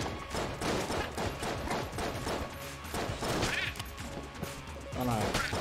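Nonstop rapid shooting from the Enter the Gungeon video game, a steady rattling stream of shots and impacts at fairly even loudness, with a voice talking over it.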